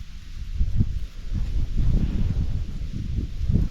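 Wind buffets the microphone in low, gusty rumbles that rise and fall continuously throughout, on a riverbank in a cold, snowy spring.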